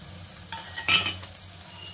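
Cumin, onion, green chilli and curry leaves go into hot mustard oil for a dhaba-style mixed veg kurma, a short close clatter and metallic clink over a faint steady sizzle.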